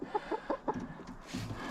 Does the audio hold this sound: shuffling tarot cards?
no